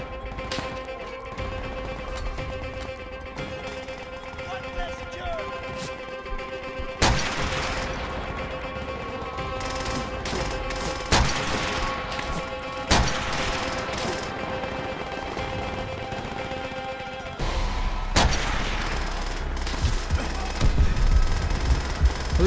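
Video game gunfire from Call of Duty: World at War, with bursts of machine gun fire at about 7, 11, 13 and 18 seconds over steady battle ambience and background music.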